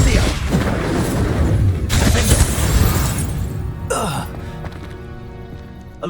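Incendio spell in Hogwarts Legacy, a loud roaring burst of fire and shattering impact in combat, fading into quieter rumbling and a brief crack near the end.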